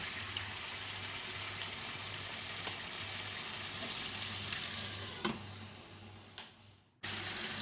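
Chicken biryani masala frying with green chillies, a loud steady sizzle with a low hum, then a couple of stirring knocks before the sound cuts off near the end.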